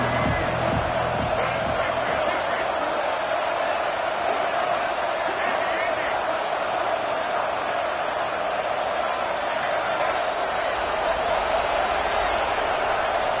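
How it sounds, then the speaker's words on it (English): Loud stadium crowd roar from a College Football 26 video game, a dense, steady wall of cheering and noise that holds at full strength for the whole stretch, with no break or fade. "And with this place rocking, the crowd forces a false start."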